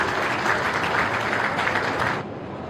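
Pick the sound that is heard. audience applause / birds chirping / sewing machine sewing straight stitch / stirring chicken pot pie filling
audience applause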